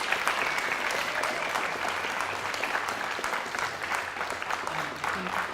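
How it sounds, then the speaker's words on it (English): An audience in Copenhagen claps steadily for Ariel Gold after her talk on American Jews, activism and Israel, a dense, sustained round of applause filling the room with no voices over it. "please give Ariel a round of applause"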